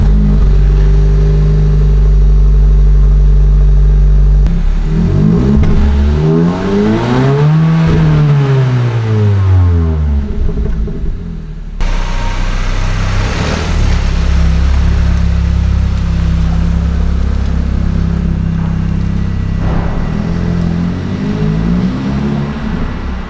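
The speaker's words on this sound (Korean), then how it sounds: "냉간시 배기음은 딱 이렇습니다" A Hyundai Avante N Line engine idles loudly on a cold start with a deep, throbbing exhaust rumble, revving up and settling back down a couple of times, close by with no talk.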